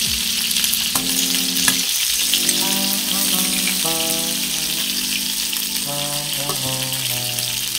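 Chicken pieces shallow frying in oil in a pan for a Chicken Changezi recipe, a steady close sizzle with occasional clinks and stirring sounds, no voice heard.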